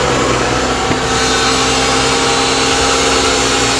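A Mercedes-Benz engine starting from cold with a known intake camshaft adjuster fault runs in a steady, loud, close droning hum throughout, with no talk.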